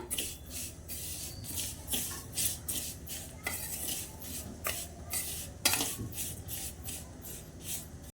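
Spoon stirring cardamom powder into a sesame and jaggery laddu mixture, a steady run of scraping, clinking strokes against the bowl, close and moderately loud, with no talking.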